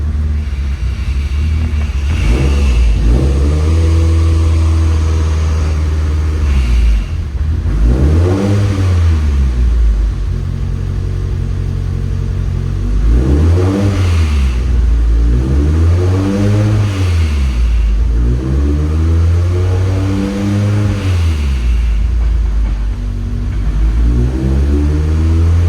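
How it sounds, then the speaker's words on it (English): Mitsubishi Evo 9 engine revving repeatedly, loud close-up rev blips rising and falling in pitch over a constant rumbling idle, with about five distinct surges. "Driving the Evo on the lift."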